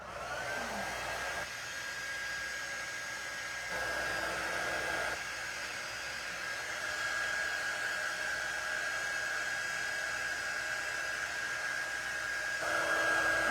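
A hair dryer blows steadily on a wet cutting board, a continuous close whooshing hiss with slight shifts in pitch and loudness as it is moved around.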